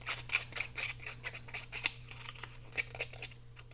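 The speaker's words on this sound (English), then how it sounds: "I'm just going to rough this edge up with my scissors" Scissors roughing up the edge of a paper scrap for a shabby chic scrapbook border, a close series of quick, crisp snips and scrapes in uneven bursts over a low steady hum.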